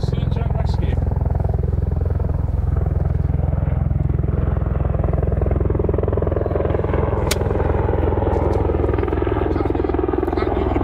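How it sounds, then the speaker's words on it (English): A search and rescue helicopter flies in over a golf course at Polzeath in Cornwall, a loud, continuous rotor rumble and buzz filling the air. People talk over the steady drone. "Helicopter coming in."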